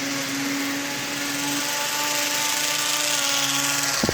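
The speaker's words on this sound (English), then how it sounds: "That is indeed a locomotive powered by a propeller." A propeller-driven Lionel Benz aero car, a model train car, runs with a steady, loud whirring drone that holds evenly throughout, with no voices over it.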